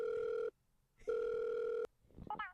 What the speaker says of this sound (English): So I'm just going to give her a quick call. Get her right down here. It's ringing.